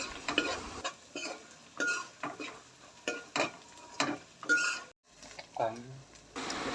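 A spoon scrapes and stirs cumin, mustard and fenugreek powder in a pan for village-style fish curry, in short repeated strokes, with a soft sizzle underneath and faint talk in between.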